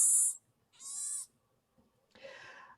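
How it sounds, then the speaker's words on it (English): A young baboon gives three short high-pitched vocal calls, two tonal squeaks followed by a rougher, noisier call, each separated by brief pauses, close and clear with no talking. "They're making some swit, swit, swit noises and some zoop"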